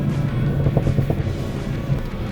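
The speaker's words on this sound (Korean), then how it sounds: "1단에서 6800rpm 찍고 있는데 변속 안 하죠" Hyundai Kona N engine held at about 6800 rpm in first gear, a sustained strained drone with a few small pulses, heard from inside the car without talk.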